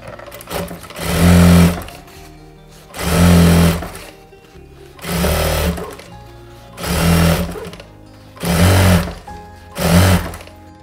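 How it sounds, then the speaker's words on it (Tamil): A sewing machine stitches the bottom hem of a blouse in six strong bursts of whirring, each a second or so long, separated by short quiet gaps, close and loud. "கீழே வந்து பாட்டம் வந்து நம்ம தச்சு எடுத்துக்கலாம்."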